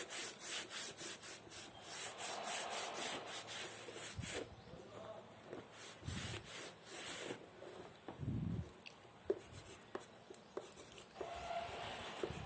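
Board eraser rubbed back and forth across writing during an algebra lecture, a series of rhythmic scrubbing strokes followed by scattered softer rubs and taps, fairly quiet.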